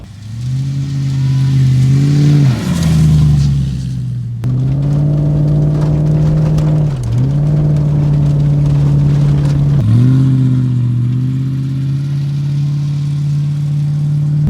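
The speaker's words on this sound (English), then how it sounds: "Drive off-road at about 20 to 30 miles an hour and see if anything falls off." A V8 Land Rover Discovery fitted with an illegal exhaust drives off-road at moderate speed, its loud, deep engine note rising and falling through several revs and gear changes, close and continuous throughout with no talk.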